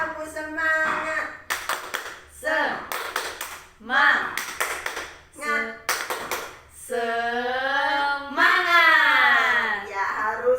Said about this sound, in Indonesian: Oke, kita ulang ya Bu ya. Tepuk semangat.